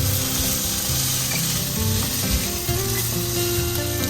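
Sliced onions and garlic sizzle steadily in hot oil in a pan, a dense continuous frying hiss with occasional scraping stirs, loud and close throughout with no talking.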